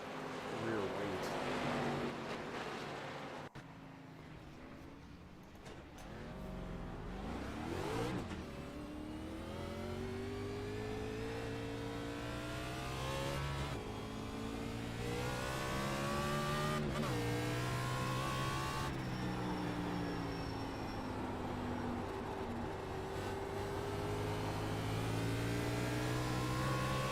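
Race car engines roar and rev continuously in an iRacing championship sim race, pitch climbing and dropping through gear changes as other cars run close alongside, loud and sustained throughout.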